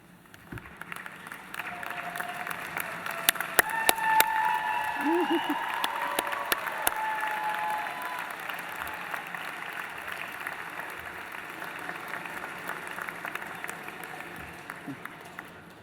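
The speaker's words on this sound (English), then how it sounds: "give them a thunderous round of applause." Graduates at a spring convocation ceremony applaud their guests, a broad, steady wash of clapping from a large seated crowd that swells and then holds through the clip, with a few faint voices mixed in.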